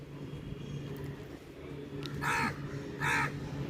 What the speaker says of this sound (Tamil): இந்த காக்காவுக்கு ஒரு சாமர்த்தியம் பாருங்கள் நான் கேமரா ஆன் பண்ணால் கத்த மாட்டேங்குது கேமரா ஆஃபில் இருந்தால் கத்துது